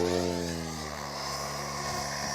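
A model glider pulls out of an overspeed dive, with a loud, steady whistling rush of air and a droning tonal whine that holds for a couple of seconds.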